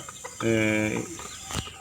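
Chickens kept in a coop on a rooftop terrace of a house, with one bird giving a loud, close, drawn-out cluck call while a person talks nearby.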